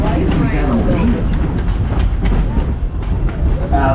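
The Wildlife Express train at Disney's Animal Kingdom rumbles along, a loud continuous low clatter of railcars with a voice talking over it.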